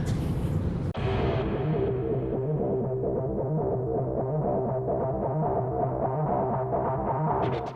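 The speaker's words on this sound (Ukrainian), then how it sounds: "Це найбільший у світі цивільний літак Мрія." An Antonov An-225 Mriya droning low overhead above a stadium, a loud sustained throbbing engine hum with steady tonal layers that continues throughout, no speech.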